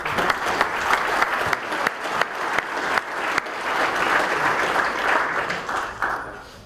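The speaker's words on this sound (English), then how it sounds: "A round of applause." A conference audience applauding, sustained clapping that swells and then tapers off near the end, loud and close with no speech over it.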